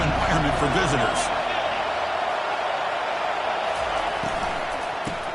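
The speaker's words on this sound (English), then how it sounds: "Listen to the crowd energy here in the early going." Dense, continuous roar of a stadium crowd at a Texas football game, loud and steady throughout with a broad wash of cheering noise.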